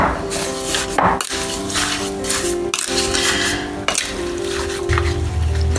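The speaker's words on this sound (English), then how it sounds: "And then I add some sugar and mix it all up." A spoon mixes sugar into fresh strawberries in a bowl, making steady close scraping and clinking against the dish for several seconds, with no talking.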